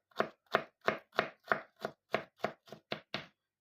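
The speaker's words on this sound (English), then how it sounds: "while I finish chopping this up" A knife chops bacon slices on a cutting board in about eleven crisp, evenly spaced strokes, close and clear with nothing else heard.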